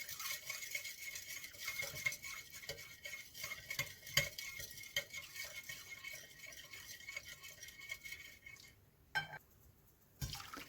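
Rock salt is stirred into grape vinegar, with a spoon rattling and clicking against the container in quick, uneven strokes, fairly faint, ending in a few separate knocks.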